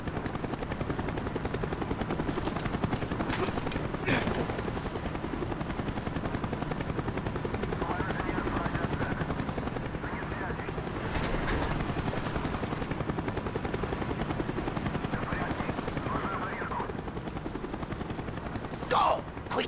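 A steady, droning helicopter rotor in the video game Call of Duty: Black Ops fills the scene with continuous low rumble, joined by a few scattered sharp bangs like distant gunfire.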